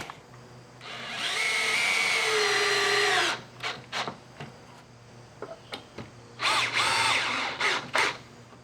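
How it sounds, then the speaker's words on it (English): Power drill driving screws into wood while a mobile chicken shelter is built. One long, loud whirring run comes first, followed by a string of short bursts and clicks, then another sustained whir, all close up with no talk. "these drills are very nice, and they're nice when you got to drill holes through things"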